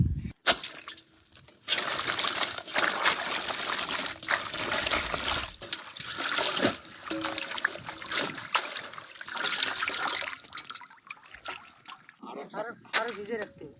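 Water trickles and splashes as freshly picked water lily stems are washed by hand, a continuous close wash with brief pauses and people talking over it.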